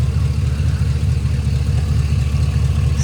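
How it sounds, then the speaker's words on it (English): A car engine idles smoothly and steadily at close range, a low even rumble with no talk. "Still idling as smooth as glass."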